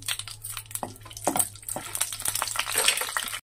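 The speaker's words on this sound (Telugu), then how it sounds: "ఆయిల్ వేసుకొని 5 పచ్చిమిరపకాయలు వేసానండి నేను" Five green chillies fry in hot oil for a mint-tomato chutney, a bright crackling sizzle broken by short scraping stirs against the pan.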